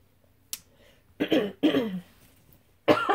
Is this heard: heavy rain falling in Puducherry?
no